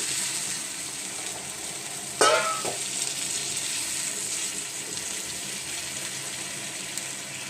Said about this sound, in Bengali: মোচাটা আমার ভাজা হয়ে গেছে মশলার সাথে। এখন অল্প কিছুটা জল দিয়ে দিচ্ছি।